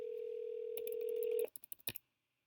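Telephone line while placing a call: a steady, loud single-pitch dial tone for about a second and a half, then it cuts off into a short run of quick dialing tone bursts before going quiet.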